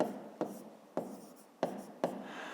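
Pen on paper writing out the answer to a maths exercise, a quiet scratchy stroke sequence broken by four sharp taps as the pen touches down, close and alone.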